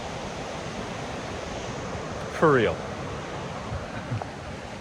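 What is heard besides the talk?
running water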